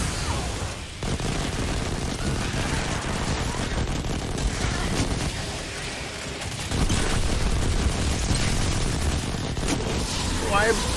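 Machine gun fire and other weapons in the video game Destiny 2, a dense, continuous barrage of shots and blasts that runs throughout at high level, with voices talking over the combat.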